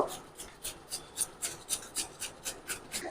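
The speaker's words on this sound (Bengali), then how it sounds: "এটা দিয়ে আমি পেঁপেটা ঘষে নেব" Young green papaya rubbed against a hand grater in quick, even strokes, about a dozen soft rasping scrapes in a steady rhythm, close and fairly quiet, with no talking.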